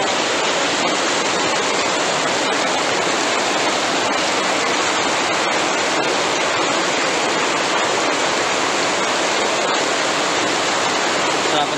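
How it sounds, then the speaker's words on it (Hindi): Floodwater surges through a broken shop shutter during a cloudburst in Nainital, Uttarakhand, a loud, continuous roaring rush of water filling the whole clip. "अरे देखो शटर तोड़ के पानी घुस गया।"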